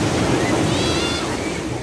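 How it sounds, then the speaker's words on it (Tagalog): Strong ocean waves crash and wash onto a beach in a steady, loud roar of surf with wind noise, continuous throughout with no voices. "Ang lakas ng alon actually."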